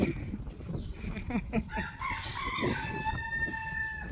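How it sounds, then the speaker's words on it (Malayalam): A rooster in a coop in a residential neighbourhood in Muscat crows one long, rising call that sounds moderately distant, preceded by faint clucking and some low background noise. "കോഴി കൂവുന്ന കേട്ടോ ഗൈസ്."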